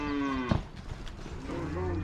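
Cattle lowing close by during a cattle-shipping day, a long drawn-out moo opening the clip, then a loud thump, and a second lower moo rising near the end over farmyard noise.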